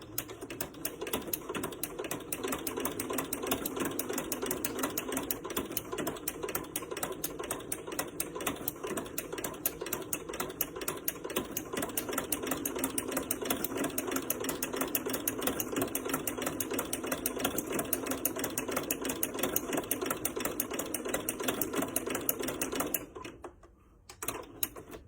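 A sewing machine with a ruffler attachment rapidly stitches ruffles onto white fabric at a 2.5 millimeter stitch length, a fast steady mechanical clatter that runs continuously, then stops abruptly near the end.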